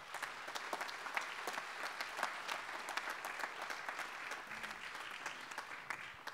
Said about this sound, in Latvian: es vēlos jūs aicināt ar aplausiem, kā pateicību par piedalīšanos, sveikt visus konkursa dalībniekus